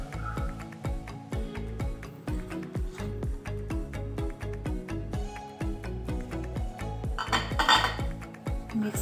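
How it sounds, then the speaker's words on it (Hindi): Upma is stirred in a metal pan after coriander goes in, a spoon knocking and scraping against the pan in a steady, close, rhythmic series of clinks, with no voices. "मिक्स कर लेते हैं धनिया डाल के।"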